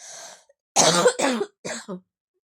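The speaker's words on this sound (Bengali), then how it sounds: "আমার খুব কাশি হয়েছে জানো তো বন্ধুরা ওই জন্য কাশি পেয়ে যাচ্ছে" A person coughs several times in quick bursts, close and fairly loud, with a brief throat-clearing sound before them.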